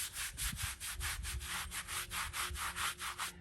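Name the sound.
soft natural-fiber Tampico brush scrubbing a headstone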